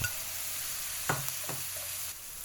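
Steady sizzling of bean sprouts stir-fried in a hot pan over high heat, with a few brief scrapes and clatters of stirring, no voices.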